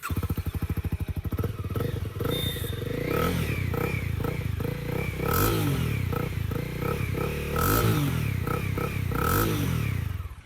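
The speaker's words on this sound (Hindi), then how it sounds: "तो कुछ इस तरह का एग्जॉस्ट नोट मिलता है विद दिस होंडा CB300R" A 2026 Honda CB300R 300cc streetfighter motorcycle, its exhaust idling with a rapid even pulse, then blipped through several sharp revs that rise and fall, loud and close throughout.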